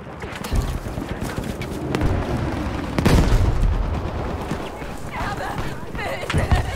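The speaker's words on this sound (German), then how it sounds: "Versuch mit einer Granate!" A grenade blast in Battlefield V multiplayer lands as a loud, close boom about midway through, set amid continuous battlefield rumble and scattered gunfire-like cracks, with voices shouting over the din.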